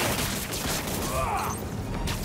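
Fireworks go off in a Spider-Man 2 game scene as a busy wash of pops and booms, with whistling streaks overhead, continuous and moderately loud.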